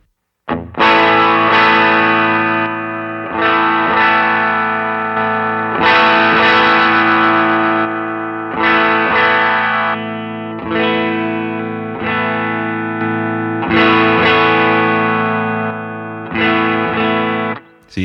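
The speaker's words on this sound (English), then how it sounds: "Now let's put on some distortion." Loud, sustained distorted electric guitar chords ringing out alone, struck in a steady series with a thick, saturated, buzzing tone.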